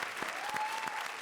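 Studio audience on an Indian comedy show applauding steadily for a short stretch, dense clapping with a faint whistle or cheer riding over it.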